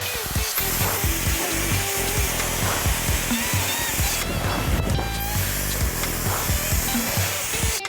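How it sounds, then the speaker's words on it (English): A professional hair dryer blows steadily for several seconds, a loud continuous broadband rush with a faint whine that stays close and even, with no talking. "ready to plug in the new hair dryer"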